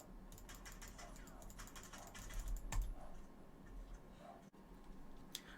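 Quiet computer keyboard typing and mouse clicks used for game controls, a steady run of light taps with one sharper click partway through.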